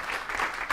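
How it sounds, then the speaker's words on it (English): A live business Q&A audience breaks into a short burst of applause, a brief even wash of clapping heard at moderate level. "First of all, round of applause for Ben."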